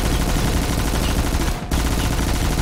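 A video game shooter's dense, sustained barrage of gunfire roars loud and close, broken by one brief gap before the firing resumes.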